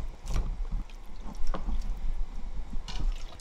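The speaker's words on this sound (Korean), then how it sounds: "물을 붓고 씻어내" Water poured over salted skate to rinse it, with uneven splashes and sloshing in a bowl and a few clatters, close and moderately loud.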